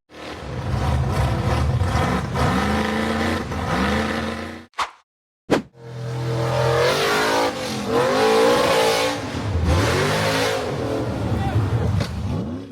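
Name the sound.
off-road buggy accelerating hard up a steep rocky dirt wall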